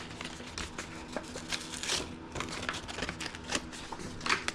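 Sandpaper rubs over hand-carved wood in short, uneven strokes, a close, quiet, dry scratching that repeats in bursts with brief pauses between them.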